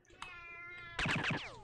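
A tomcat in the video game Shogo: Mobile Armor Division lets out a short meow, then after a brief pause a quick burst of three or four louder, squealing yowls. The calls are clear and close.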